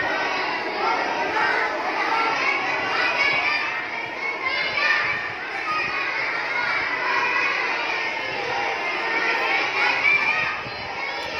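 Many children in a Quran reading class in a mosque madrasa recite and chatter together, a continuous dense wash of young voices with an adult speaking over them.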